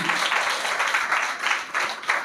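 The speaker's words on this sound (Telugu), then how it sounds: "గట్టిగా చప్పట్లు కొట్టండి" A church congregation claps loudly together during a sermon, the hands striking in a steady, rhythmic beat of close, bright bursts with no voices over it.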